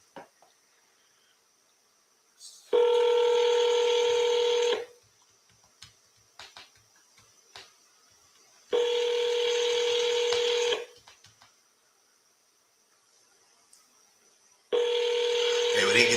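A phone call to a seller lead rings out in three long, evenly spaced tone bursts separated by near-silent gaps, loud and clear.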